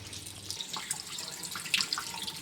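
Tap water runs steadily into a sink while a heavy bed blanket is washed, a continuous near splashing hiss with a few louder spatters and no voices.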